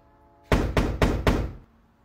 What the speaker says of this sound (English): Somebody's knocking at your door.